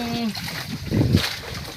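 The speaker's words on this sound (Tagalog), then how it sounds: "buhos naman tayo na tubig mga kapising para malinis ang ating" Water poured out to rinse a squid-cleaning area splashes briefly and nearby, a short splattering burst, with someone talking over it.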